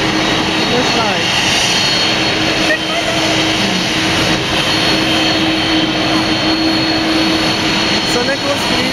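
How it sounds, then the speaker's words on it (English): Air Force One departs as a loud, steady jet-engine roar fills the air without letup. Voices talk beneath the engine noise. "reporting the departure of Air Force One"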